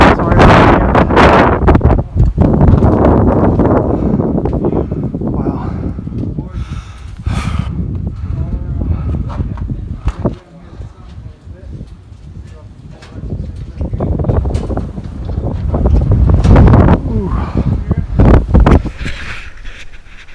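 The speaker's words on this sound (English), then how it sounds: "Sorry about the wind." Strong, gusty wind buffets the microphone high on Albert Mountain along the Appalachian Trail, loud roaring bursts rising and easing throughout, with a voice briefly heard under the gusts.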